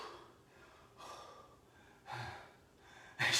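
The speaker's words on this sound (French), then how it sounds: "je suis encore essoufflé" Heavy, out-of-breath breathing after hockey training: quiet breaths with a few sharper gasping inhales and exhales spaced about a second apart, close to the microphone, with no talking.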